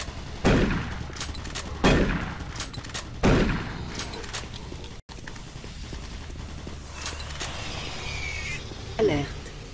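Automatic turret in the video game Doom 3 firing in three sharp, loud bursts spaced a little over a second apart, followed by a quieter stretch with mechanical whirring and one more short hit near the end.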